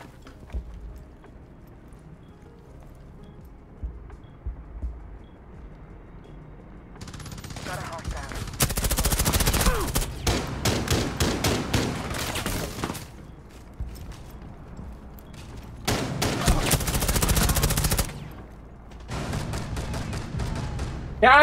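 Weapon fire in Rainbow Six Siege, with long loud bursts of rapid automatic gunfire between quieter stretches of footsteps and movement, close and harsh.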